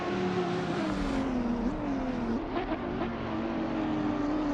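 Race cars in an AI racing video game drive past, engines whining in sustained tones that slide up and down in pitch with gear changes, loud and continuous with no talking.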